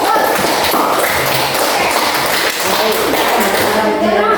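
Students applauding together in a classroom, a dense, steady wash of clapping hands sustained throughout, loud and close, with some voices mixed in.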